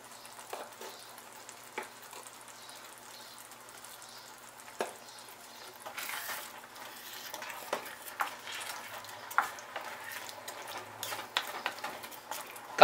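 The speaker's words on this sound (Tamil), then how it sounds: "தக்காளி நல்லா வதங்கட்டும்." Tomatoes and vegetables with masala and salt sautéing in a pan for veg kuruma, a faint soft sizzle with occasional light stirring clicks and scrapes that grow a little busier toward the end, no speech.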